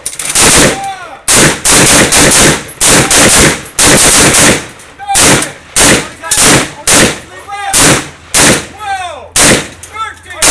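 An M16 assault rifle fires at a shooting range, loud, close, sharp reports repeated in a steady sequence of separate shots, each followed by a short echoing tail.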